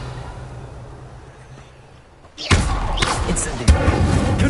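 Revelio spell cast in Hogwarts Legacy: after a quiet lull, a sudden loud whooshing burst hits and sustains with a sharp thud partway through, close and alone.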